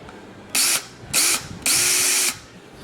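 A DeWalt power tool fitted with a rounded bit deburring metal, whirring loudly in three bursts, two short and one longer, with quiet pauses between.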